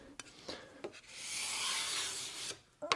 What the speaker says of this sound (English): So I'm just going to take a scraper and just